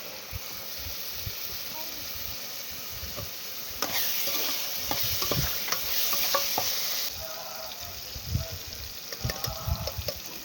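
Tomato masala cooks in a covered pan with a soft, continuous sizzle and bubbling, interrupted by scattered clicks and stirring knocks, and someone speaks over it.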